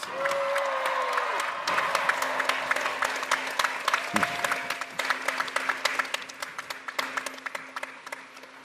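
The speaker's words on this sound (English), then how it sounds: "I think that deserves another round of applause" A large crowd at a graduation ceremony applauding with sustained dense clapping that continues throughout, a brief whoop or cheer rising over it early on.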